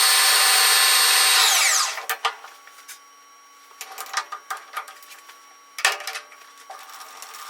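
A drill boring a small hole into the end of a tap handle: a loud, steady whine for about two seconds, then sporadic scraping and clicking bursts as the work continues, with no talk.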